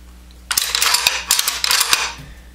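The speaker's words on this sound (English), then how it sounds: "you pull your operating rod back, then you push this little button, and that'll lock the bolt and operating rod back" Metallic clacks and a sliding scrape from a Ruger Mini 14 Ranch Rifle as the operating rod is pulled back and the bolt locked open, a burst of sharp mechanical action lasting about a second and a half, close and loud with no talk.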